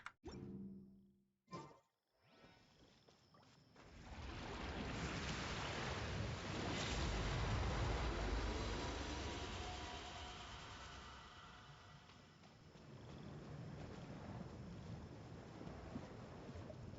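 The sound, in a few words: rain in a courtyard, from video game Genshin Impact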